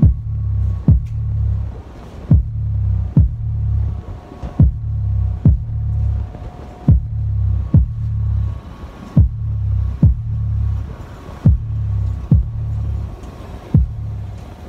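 Subwoofer bass driven through a Tosunra A20 power amp with the EQ set to lows only, pulsing in a steady repeating throb of deep thumps, loud and close, with no voices.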